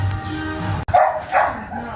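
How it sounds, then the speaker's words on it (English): Dog barking excitedly from inside a parked car with all its windows down, on a street in Wall, South Dakota; a few sharp yips and barks come close and loud, mixed with people talking nearby. "There's a dog mad to be inside of the car."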